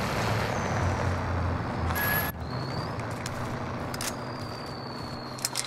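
Heavy truck engine rumbling low in Call of Duty: Warzone gameplay, with a sharp hiss of air brakes around two seconds in, then a steady engine drone with faint tonal whines continuing to the end.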